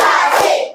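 A classroom of pupils clapping hands together in unison, a short loud burst of close clapping with no talk.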